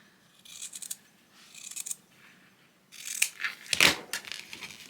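Scissors snip across the corners of a handmade junk journal cover, giving a few separate bursts of crisp cutting and paper rustle with quiet gaps between, close and fairly soft.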